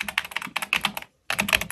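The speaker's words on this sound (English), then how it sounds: "So I have for years used an old school computer keyboard." Rapid clacky keystrokes on an old-school Apple keyboard from the Macintosh G5 era, typed in close bursts with a brief pause midway, loud and alone.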